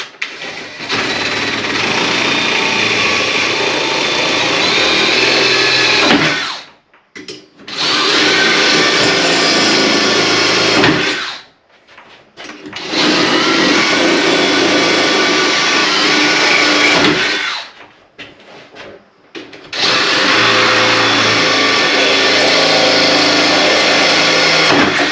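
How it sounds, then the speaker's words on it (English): A power drill bores through a cargo trailer's ceiling in four long, loud whining runs, each several seconds long, with short quiet breaks between them. "We're going to go ahead and drill through the ceiling."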